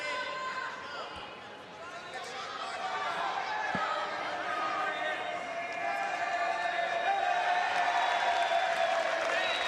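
Crowd noise builds at the IBJJF Crown jiu-jitsu event for featherweight Diego Pato, a broad swelling roar of cheering and applause from a large audience, with a commentator talking over it.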